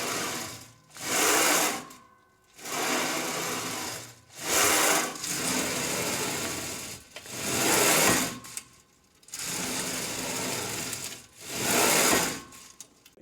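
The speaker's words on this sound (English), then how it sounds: "the bearings at that weight, you really start to hear kind of struggling a little bit" The bearings of a RitFit compact leg press sled strain under 360 pounds, giving a gritty rolling rasp with each push, rising and falling in regular repetitions separated by short pauses, close and fairly quiet.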